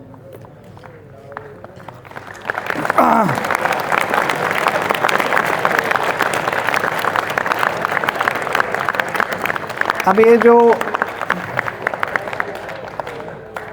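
School students erupt into loud, dense clapping after a quiet start, sustained for about ten seconds with a brief voice rising over it near the end.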